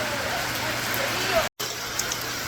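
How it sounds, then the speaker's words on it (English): Steady rain falling outdoors at a holiday villa in Puerto Rico, a continuous broadband hiss of drops on surfaces with a brief dropout partway through and no clear talk over it. "Today it is raining, but you know, a little rain ain't gonna stop nothing."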